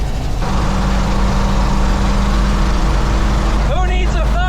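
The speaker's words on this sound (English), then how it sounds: "I love listening to the rev of that engine." An old pickup truck engine drones loudly and steadily while driving in fourth gear, with a low rumbling hum throughout; a voice speaks over it near the end.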